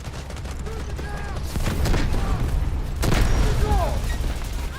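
Gunfire in the Delta Force shooter game, with booming shots and bursts over dense battlefield noise, including louder impacts around the middle, while a person talks over it.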